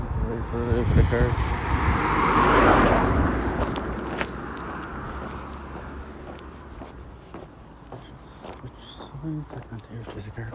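A car swells in and rushes past nearby on a countryside road in Ireland, its noise fading away afterward while people talk and footsteps continue.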